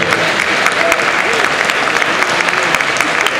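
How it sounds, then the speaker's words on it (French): Audience applause at the Utopiales 2010 event, loud dense clapping from a full hall, continuous and close, with a few voices faintly beneath. "Allez, Élise, on l'applaudit."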